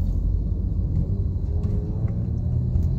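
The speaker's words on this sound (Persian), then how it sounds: "اوه اوه، وحشتناک شد طوفان" Dust storm wind heard from inside a car, a dense low roaring rumble with gusty buffeting that stays loud and constant throughout, no voices over it.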